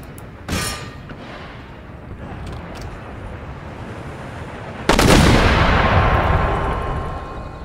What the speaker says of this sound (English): Mortars are in range.